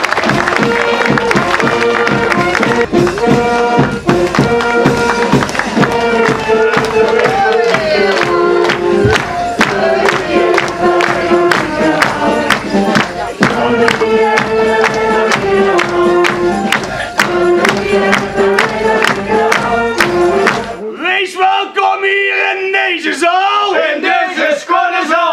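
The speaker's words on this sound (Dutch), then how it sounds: "Een gruwelijk groot applaus." A carnival ball crowd cheering and shouting over loud brass band music with a steady beat, the noise sustained and dense throughout before shifting to a thinner section near the end.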